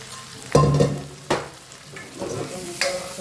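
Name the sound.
stirring a mixture in a hot pan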